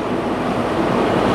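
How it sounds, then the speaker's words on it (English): Water rushes against a car driving in the rain near Coquille, Oregon, a loud, dense, steady wash of splashing and road spray with no voices. "Either the rain is picking up or I'm getting splashed."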